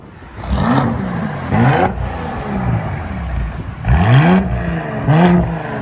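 Loud, close revving from a straight-piped family SUV engine: several sharp throttle blips that sweep up and drop back, separated by a rumbling idle with no talking.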